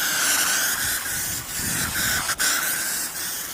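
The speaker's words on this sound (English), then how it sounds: "you spray it on." Aerosol guide coat sprayed from a can onto sanded primer bodywork, a steady close hiss running nearly continuously with one brief break, no talking.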